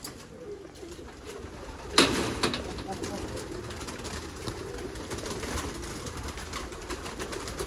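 Miyan Nazir bloodline pigeons on a sunny rooftop coo softly amid outdoor ambience, with a sharp clap or flutter near the start and faint voices in the background.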